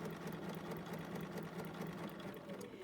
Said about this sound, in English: I leave that pin in until I get to it, and then I just sew along that line.